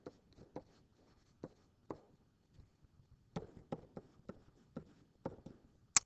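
A pen or marker writes out a logarithmic math equation: faint, close scratches and light taps in short irregular strokes, with quiet pauses between them.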